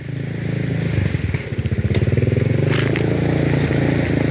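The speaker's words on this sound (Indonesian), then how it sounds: "Ini bentar ada motor lewat ya," A motorcycle rolls past on the street, its engine a rumbling, pulsing drone that swells and grows louder as it nears, close and steady, with no talking.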